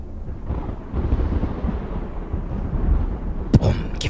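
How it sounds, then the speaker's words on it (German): Thunder from a thunderstorm in the video game Madison: a continuous low rumble rolls throughout, with a sharper, louder crack near the end, heard alone without talk. "Bumm, Gewitter!"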